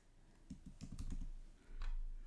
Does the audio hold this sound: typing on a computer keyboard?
yes